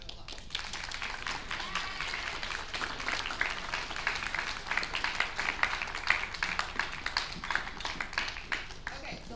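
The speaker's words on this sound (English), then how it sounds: "Give them another round of applause." Crowd applause at a high school awards assembly: dense, sustained clapping from a large audience filling the room steadily for the whole stretch, with no talking over it.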